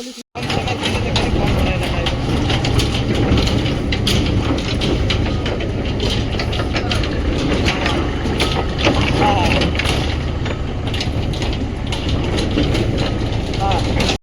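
A tractor engine idles in a steady, loud, low drone while a cage is lifted and loaded onto it, with people talking over the engine.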